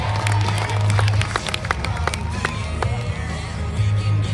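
Rodeo crowd in Canterbury, New Zealand claps and cheers for a young cowgirl, a busy stream of scattered handclaps and babble with a low droning tone underneath.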